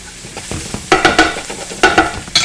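Onions frying in a pan, a soft sizzle broken by several bright scraping stirs, close by and fairly loud, no talking.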